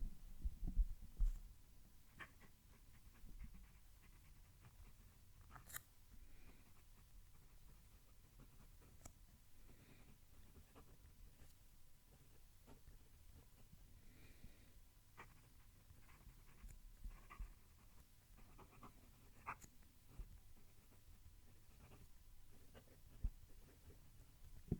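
An Asvine V169 fountain pen with a fairly wet ink writing on paper, recorded with the mic close: faint, soft scratchy strokes in an irregular rhythm over a low background hum, with no talking.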